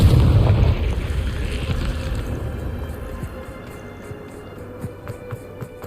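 A Confringo blasting spell goes off in the Hogwarts Legacy video game. A loud, deep explosion hits first, then rumbles away into a fading tail with a few faint pops.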